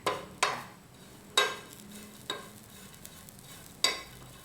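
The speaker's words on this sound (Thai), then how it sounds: "อันนี้คั่วไปเรื่อยๆ นะคะ เราต้องคนอยู่ตลอดเวลานะคะ" Grated coconut being dry-roasted in a pan for miang kham, stirred constantly: a low steady sizzle under repeated sharp scrapes of the spoon against the pan, about five strokes spread across the stretch.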